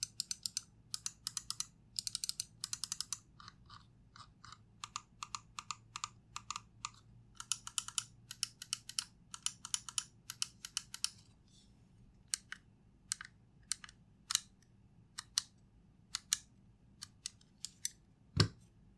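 Tamron switches on a GravaStar Mercury X Pro gaming mouse click in rapid bursts and then in slower single presses, crisp and close against near silence, with a faint thud near the end and no talking.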